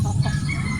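A Melsim Black gamefowl chicken on a game farm in Batangas clucks close by in a brief, loud, throaty burst.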